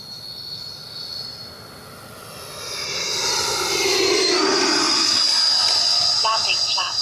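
An FMS F-86 80mm RC jet fitted with a KM Models afterburner flies past, its ducted-fan whine swelling from faint to a loud, high, steady whoosh with a rising whistle as it nears.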